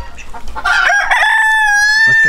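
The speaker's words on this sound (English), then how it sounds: "I've kept one rooster." A rose comb rooster crows once, loud and close, a few short clucks rising into a single long, sustained crow that carries to the end.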